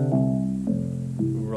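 A Fairlight CMI synthesiser plays a sustained harmonic tone drawn with a light pen, shifting pitch in three steps, loud and close with no talking over it.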